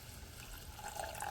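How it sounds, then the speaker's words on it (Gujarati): A small splash of water is poured into gunda mor sabji, a Gujarati vegetable dish of gunda flower buds, to make it saucy; a soft, steady running-water sound, faint and close, with no talk. "થોડુંક અમથું પાણી નાખશું"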